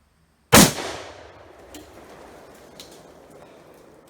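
A single sharp gunshot from a Northern Rockies Armory 1911 pistol chambered in .223, loud and close, followed by a long fading outdoor echo and faint light clicks.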